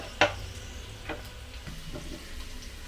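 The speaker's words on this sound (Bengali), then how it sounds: "মাঝারি সাইজের একটি পেঁয়াজ ভাজব।" Medium onion frying in oil in a pan while being stirred, a soft sizzle under a sharp utensil clack near the start and a few lighter scrapes and taps afterward.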